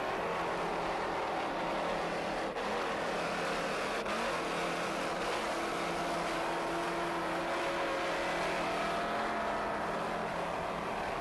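The engines of the racing powerboat Power Play, competing in B class, roar at full throttle in a constant, loud, unbroken drone, with no talk over it.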